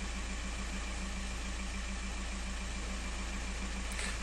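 Engine of a Skoda Octavia A5 1.9 TDI idling, heard up close near the alternator belt area: a steady, loud diesel hum with a regular low rhythmic beat running throughout.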